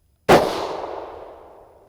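A single sharp hunting rifle shot outdoors: a sudden loud crack followed by a long fading echo, alone with no talk.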